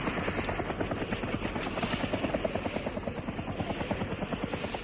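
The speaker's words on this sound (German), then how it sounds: "Airwolf landet." Radio-play effect of the Airwolf helicopter landing: a loud, continuous rotor thump with fast rhythmic beating and a high engine whine holding steady throughout, close and without any talk.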